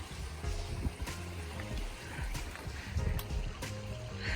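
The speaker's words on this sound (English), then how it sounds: "Our first creek." Water runs steadily in a small woodland creek on a hike, a continuous close rushing and trickling with occasional faint knocks and footsteps.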